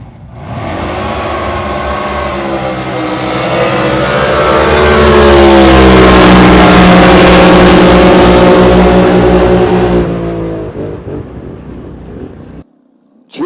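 Drag racing boat engines roar at Lake Ming, a loud, sustained blast that builds, holds at full power for several seconds, then fades away into quiet.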